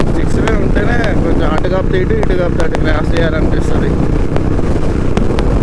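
Heavy roaring wind buffets the microphone continuously while a motorcycle rides along a six-lane highway bridge on the NH16 between Chennai and Vijayawada, loud and constant under someone talking throughout.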